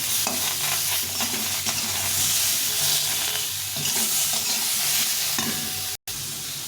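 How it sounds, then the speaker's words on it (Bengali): Thin tomato slices fry with vegetables and pea shoots (matar shaak) in a pan, a steady broadband sizzle with scraping stirs throughout, close and loud, cut by a brief silent gap near the end. "টমেটোটা একটু ভেজে নিই"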